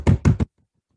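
Three quick, close, loud raps on a door, followed by silence.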